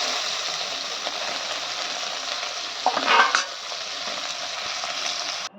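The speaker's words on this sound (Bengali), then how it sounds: "আর এদিকে ভাজছি মাছটা। ছোট মাছ ভাজা খেতে খুব মজা।" Small fish fry in a pan with a steady hissing sizzle throughout, swelling briefly with a louder spatter and scrape of stirring midway, no talk.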